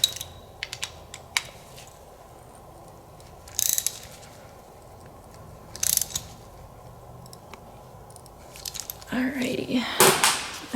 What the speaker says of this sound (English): We'll go ahead and tighten these down.